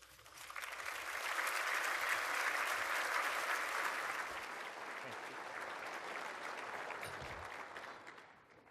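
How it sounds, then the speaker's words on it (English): An audience at an annual association meeting applauds steadily, the clapping swelling to a peak and then holding at a slightly lower level before tapering off near the end. "Nice to see the clap starting early."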